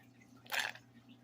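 Water poured out of a gold pan during gold cleanup, one short soft splash about half a second long against quiet background hum.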